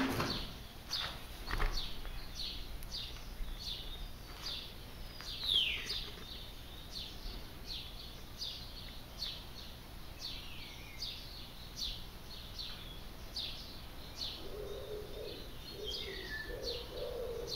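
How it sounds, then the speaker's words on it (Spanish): Pigeon cooing inside a reportedly haunted old house in San Jorge, Huesca, faint and distant over a steady background hiss, mixed with scattered chirps and light knocks. "Una paloma, parece eso."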